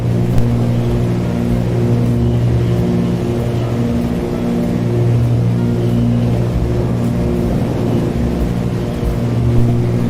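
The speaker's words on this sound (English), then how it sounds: "I don't even know if you guys can hear that because the damn engines are so damn loud" Twin piston engines of a Cessna 310R in Microsoft Flight Simulator drone steadily and loudly throughout, a constant low rumbling hum with a slight beat between the engines and no voices.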